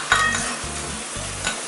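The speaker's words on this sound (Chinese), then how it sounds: "我们稍微炒一下，接下来把刚才我们炒好的五花肉条放下去一起炒。" Pork belly strips being stir-fried in a pan for braised minced pork over rice, a steady sizzle broken by rhythmic scraping strokes of a spatula against the pan.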